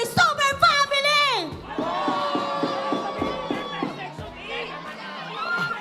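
A crowd chants and cheers at a live MPL Philippines Mobile Legends esports match, loud rhythmic shouts and whoops from many voices, with a commentator speaking over them.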